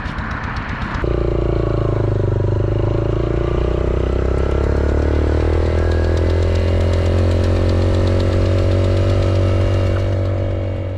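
A motorcycle on the road to Skardu: the engine starts up after a brief rattle and settles into a loud, steady, close drone with a constant low hum that holds throughout, no talking.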